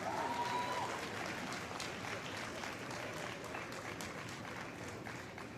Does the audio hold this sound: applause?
yes